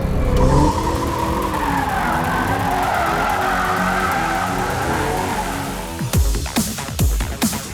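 A Ford Mustang EcoBoost spins donuts, its engine roaring under a sustained screech of skidding tires. The squeal then fades, leaving scattered knocks and clatter at the end.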